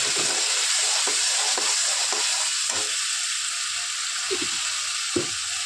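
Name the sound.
stirring and sautéing spicy egg curry in a pan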